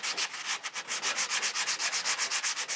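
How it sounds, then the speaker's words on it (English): A guitar body is sanded by hand with 240 grit sandpaper on a flexible pad, quick rhythmic back-and-forth scratchy strokes, close and steady with no talking. "I really do like how this sandpaper cuts."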